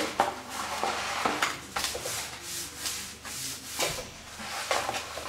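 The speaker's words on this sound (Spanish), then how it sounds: "Para ganar tiempo ya echamos el pegamento en las juntas." Glue is spread into the joints of a model in a series of short scraping, rubbing strokes, close and fairly quiet, arriving in irregular bursts with small pauses between them.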